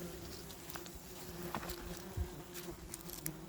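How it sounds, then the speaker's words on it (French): German wasps buzzing around an underground nest being dug out of the soil, a steady close insect drone with brief louder passes and faint rustling. "La guêpe germanique sous la terre."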